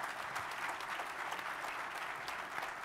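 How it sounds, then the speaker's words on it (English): A crowd at a Lions Den live final event gives a steady round of applause, even and sustained throughout at moderate distance. "So big round of applause for all of them as well."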